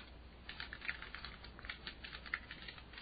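Keys clatter on a computer keyboard as a message is typed into a web form, a steady run of light, close clicks at an even pace, fairly quiet and with no talk.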